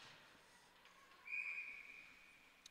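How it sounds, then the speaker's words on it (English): A referee's whistle blows once, a faint, thin, sustained tone in a women's ice hockey arena, heard distantly over a steady crowd and rink ambience. "a whistle and a stoppage in play as there will be a face-off at center ice"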